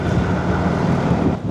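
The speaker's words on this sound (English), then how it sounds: "it's getting a bit windy here, a bit blowy." Blustery wind buffets the microphone in a constant low roar near the sea at Fethiye, steady for the whole moment with no voices.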